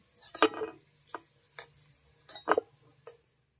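Fried potatoes are lifted from hot oil with a metal utensil, giving a few sharp clinks and scrapes against the pan at irregular intervals over a faint background of oil.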